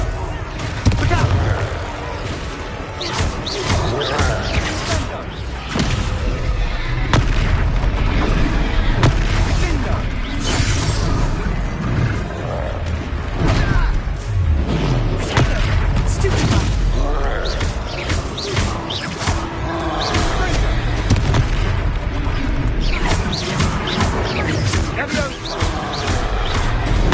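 Spell explosions from the Confringo curse burst among the battle sounds of the video game Hogwarts Legacy. Repeated booms and pops are mixed into dense, loud game audio with character voices throughout.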